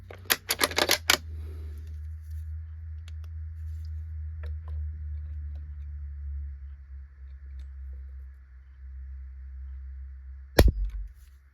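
Trigger of a Ruger American II rifle clicking: a quick burst of sharp, close clicks at the start, then a single crisp snap near the end, over a steady low hum.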